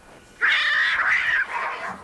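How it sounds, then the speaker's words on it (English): Cats meowing in a horror film soundtrack, a drawn-out, wailing, caterwaul-like cry that holds for about a second, then a second, slightly softer yowl follows, close and loud with no talk. "so you can hear the cats"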